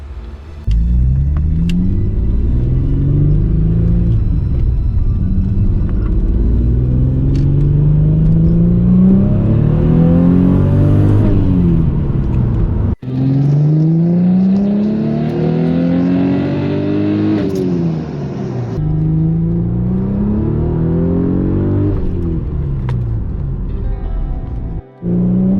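A tuned Audi S4 with upgraded injectors and K03 turbos pulls hard through the gears, the engine note climbing in repeated rising sweeps with brief breaks at each shift, loud and close throughout.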